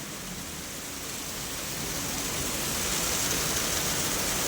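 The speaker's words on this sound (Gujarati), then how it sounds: "ફૂલ વરસાદ મિત્રો, અંધકાર છવાઈ ગયો છે અને ધંધુડો પડે છે મિત્રો." Heavy rain pours down steadily in Jamnagar, a dense, even hiss that swells slightly louder over a few seconds, with no voices.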